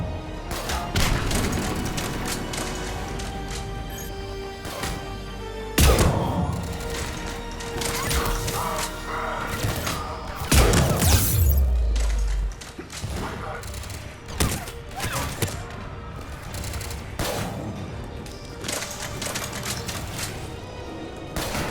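Heavy gunfire in Mass Effect 3 Legendary Edition combat against Cerberus troops: sustained bursts and loud booming impacts throughout, with a few louder blasts and voices calling out amid the fighting.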